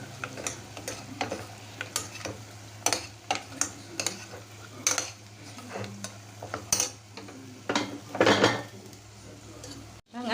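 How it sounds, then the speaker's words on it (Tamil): Mutton pieces with bones, onion and tomato are stirred together in a biryani pot, producing repeated sharp metallic clanks and scrapes of a spoon against the vessel over a low hum and faint sizzle. "எல்லாத்தையும் போட்டு இதில் நல்லா மிக்ஸ் பண்ணி விடலாம்"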